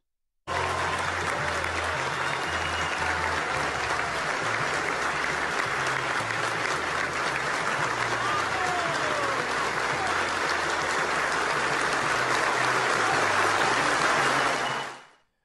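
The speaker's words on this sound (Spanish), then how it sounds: "una ovación de pies, varios minutos, extenso, aplaudiendo" A crowd at a political party candidate proclamation gives a long, sustained standing ovation, a dense roar of clapping that holds steady throughout, with faint voices and low music underneath.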